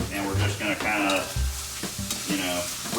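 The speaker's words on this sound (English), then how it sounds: "You can see the bacon there starting to sizzle again." Bacon sizzles and crackles in a hot pan for a Southern cabbage and bacon dish while a spatula stirs and scrapes it around, giving a steady frying hiss broken by close, uneven scraping strokes.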